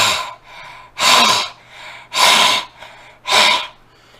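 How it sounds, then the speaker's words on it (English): A person breathing in and out through a constricted throat, giving raspy, hissing breaths in a steady alternating rhythm, close and with no talking. "you're going to make a constricting noise in your throat"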